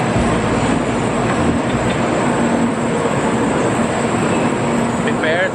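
Japanese bullet train in motion, a dense continuous roar with a steady low rumble and hiss heard from inside, with a person speaking under the noise.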